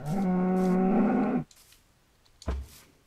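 A cow moos once, a long, loud, clear low call lasting over a second, followed by quiet and a short thump, with no talking.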